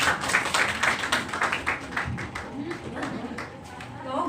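Audience applause in a school session on teaching, a dense patter of many hands that fades over a few seconds, with some voice and shuffling mixed in toward the end.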